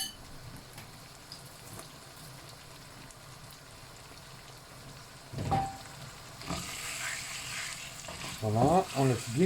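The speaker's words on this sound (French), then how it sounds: "on laisse bien cuire la moutarde" A spoonful of mustard frying in a pan for a chicken roulade in cream, with a continuous soft sizzle and louder stirring scrapes and clatter near the end.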